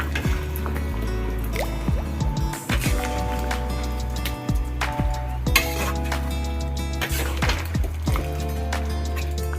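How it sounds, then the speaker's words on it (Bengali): Ingredients tipped into a pan of chicken do pyaza with the gas flame off and stirred well: close, wet scraping and squelching with drips and a faint sizzle that run steadily throughout. "এবার এইগুলো সব আমি এর মধ্যে দিয়ে দিচ্ছি দিয়ে ভালো করে নেড়ে নেব"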